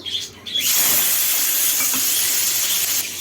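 Loud, steady sizzle as tomatoes hit a hot pan for a cauliflower and potato curry, a bright hissing crackle that bursts up suddenly and holds on at full strength.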